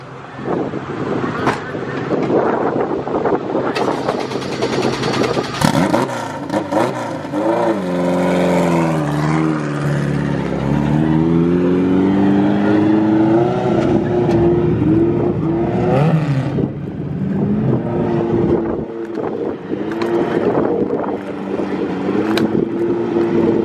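A Honda CRX engine starts and revs up, running steadily in the open with wind buffeting the microphone and people talking over the idle and revs.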